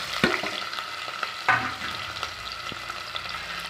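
Large onions sautéing with cinnamon and cloves in a pan for chickpea biryani, a gentle steady sizzle punctuated by several spoon scrapes and clinks, close by with no talking.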